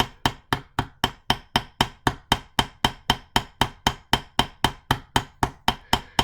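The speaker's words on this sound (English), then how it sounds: "I like to move on to the planishing hammer" A light Wubbers planishing hammer strikes a rivet on a plastic table, about twenty sharp, evenly paced metallic taps ringing out one after another with no talk.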